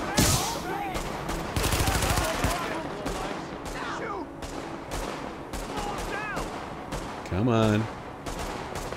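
Bursts of automatic gunfire and single shots in the video game The Division, rattling volleys spread across the scene with someone talking over them.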